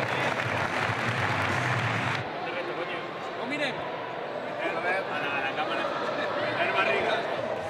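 Audience applause at a basketball club's team presentation, sustained broadband clapping from a crowd that continues under a speaker's voice throughout.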